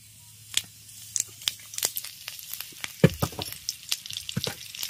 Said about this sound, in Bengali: এবার তেলের মধ্যে ফোড়নে দেব তেজপাতা, শুকনো লঙ্কা আর 5 ফোড়ন।